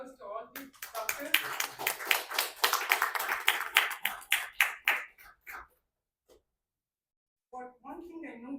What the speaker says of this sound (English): Give a round of applause to all the doctors.